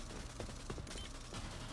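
Gunfire in the team shooter game Rogue Company, a few sharp shots popping over a dense, busy game mix of background noise and effects, fairly quiet overall.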